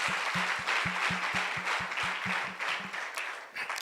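Church congregation applauding in praise of Jesus Christ during a sermon: a strong steady burst of many hands clapping, accompanied by a repeating low rhythmic thump, fading slightly toward the end.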